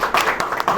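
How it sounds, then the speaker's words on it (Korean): Short bursts of audience applause welcome a presenter at a sales enablement session, uneven claps coming in quick clusters for under a second. "박수로 맞이해 주시면 감사하겠습니다."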